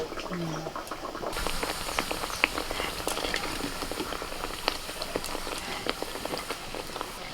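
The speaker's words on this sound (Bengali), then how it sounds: "এবারে একটা একটা করে ভেজে নেবো" Puris deep frying one at a time in hot oil give a steady bubbling sizzle with scattered crackling pops, close and continuous throughout, with no talk.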